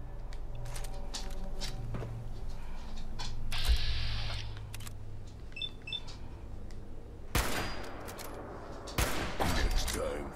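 Gunfire in the video game Fallout 4, a few sharp, fairly quiet shots and clattering bursts, with footsteps and a low steady background hum between them.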